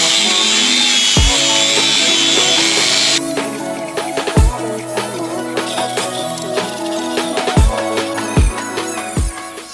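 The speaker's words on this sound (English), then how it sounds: "Let's get stuck in the wire wheel and the chassis." A wire wheel on a grinder strips a Nissan GQ Patrol chassis, a high whining spin that starts steady then gives way to scratchy grinding with several sharp knocks, loud and close.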